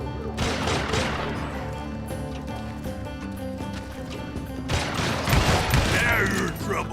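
Gunfire bursts in the Wild West shooter Call of Juarez Gunslinger, fairly loud and dense at the start and again near the end, with busy game sound in between.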